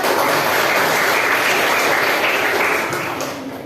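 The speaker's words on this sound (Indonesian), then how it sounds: "tepuk tangan teman-teman" Colleagues applaud together after a classroom presentation, a steady dense wash of clapping that holds loud for a few seconds and then starts to fade toward the end.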